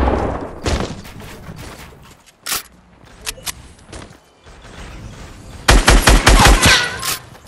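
Gunfire in Fortnite: scattered loud single shots and short bursts, then a dense rapid volley of close automatic fire near the end.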